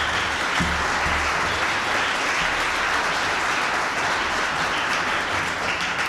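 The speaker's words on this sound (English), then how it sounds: "A final round of applause, if you will, for all the recipients." Sustained applause from an audience honoring award recipients at a historic preservation tribute ceremony, dense steady clapping filling the room without pause.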